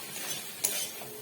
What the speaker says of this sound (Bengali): এবার এটাকে একটু ভালো করে নাড়াচাড়া করব।